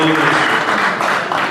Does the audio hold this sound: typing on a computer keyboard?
no